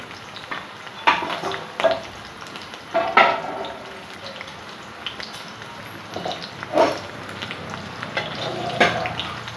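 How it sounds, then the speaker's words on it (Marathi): Onion frying in a pan for a chole dish, with a steady low sizzle broken by intermittent stirring scrapes and clatters of a spoon against the pan. "याला पण छानपैकी तळून घेणार आहे."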